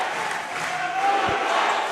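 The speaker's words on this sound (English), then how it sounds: "You could hear the home crowd really into this one" A home crowd at a Pampanga vs Zambales basketball game cheers and murmurs in a steady, distant roar, with a faint whistle-like tone and a soft thump partway through.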